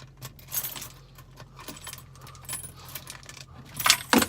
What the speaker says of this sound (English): I have my keys, I can actually unlock it now while it's on camera.